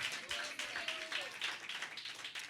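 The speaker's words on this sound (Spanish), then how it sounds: "Dele palmas" Church congregation at a Spanish-language youth service clapping their hands, a faint, rapid patter of many palms in an irregular rhythm, with a brief voice underneath.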